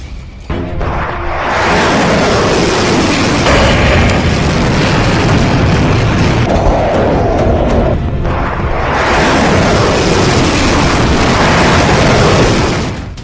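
An Iskander ballistic missile with a 700 kg warhead explodes on impact in war-torn Ukraine, heard as two loud, sustained booming roars with rumbling blast noise, close and overwhelming.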